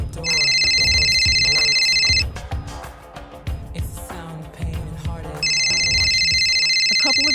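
A telephone rings in loud repeated electronic trills at the start and again near the end, with a voice speaking underneath and in the quieter middle stretch.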